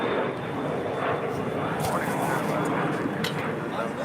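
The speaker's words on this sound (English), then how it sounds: "That was NetJets Flight 429 heading to Burbank in Embraer Phenom 300" A NetJets Embraer Phenom 300 business jet departs LAX, its engines producing a steady, fairly loud roar with a whining high tone, while faint speech sits beneath the noise.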